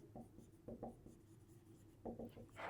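A pen or marker writes on a board during a math lesson on linear equations, producing faint, scattered scratching strokes in short clusters in a quiet room.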